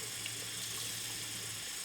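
Warm water runs steadily from a tap while makeup brushes are rinsed, a soft continuous splashing stream close by with no talking.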